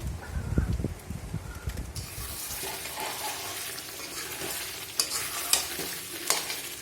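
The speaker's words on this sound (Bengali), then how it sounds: "আজকে পুরোটাই শুকনো লঙ্কা দিয়ে রান্না করছি মাংসটা" Meat cooked with dried red chillies stirred in a hot pan on a home stove: loud scraping stirs at first, then a steady sizzle with sharp crackles and spits, close up and without speech.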